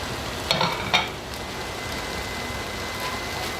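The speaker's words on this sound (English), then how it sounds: "I'm going to go ahead and add the eggs first." Eggs for egg fried rice fry in a hot pan with a steady crackling hiss, punctuated early on by two sharp clinks of a utensil, then settling into an even sizzle.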